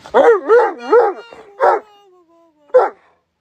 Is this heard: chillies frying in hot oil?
no